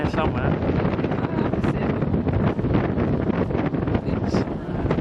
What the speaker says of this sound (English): Oh, hear that wind.